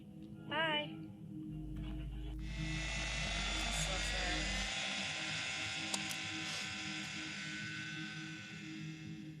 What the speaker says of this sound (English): fires up his remote-controlled helicopter at a small Brooklyn, New York park